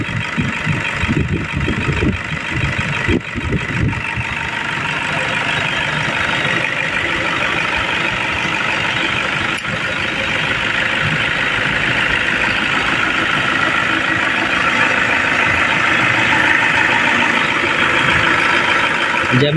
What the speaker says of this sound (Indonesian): Suaranya masih nyaring ya, ciri khas dieselnya.